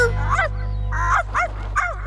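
A cartoon puppy in an animated rescue adventure gives several high, yipping barks and whimpers in quick succession over a steady musical background, close and clear.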